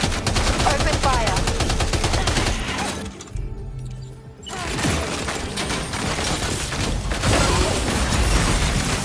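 Sustained gunfire in the video game Death Stranding 2, loud dense bursts that drop out briefly midway and then resume just as heavy, with faint voice-like sounds mixed in.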